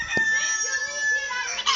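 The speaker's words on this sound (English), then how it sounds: "There's a rooster." A rooster at a park nature reserve crows once from nearby, a brief strained call with a faint voice at its start.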